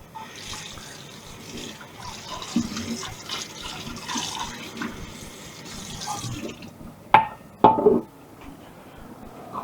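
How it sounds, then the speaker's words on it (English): Dishes being washed up under a running kitchen tap, steady close water flow and splashing with a few sharp clinks of crockery near the end, no talk. "Quickly washing up as we go along"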